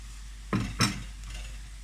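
Mushrooms being sautéed with fried onions in a pan: two quick stirring scrapes with a soft sizzle, close and fairly quiet, with no talking.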